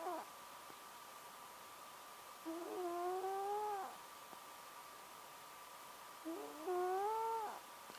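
A cat yowls twice in long, wavering drawn-out cries, separated by a few seconds of quiet room hum.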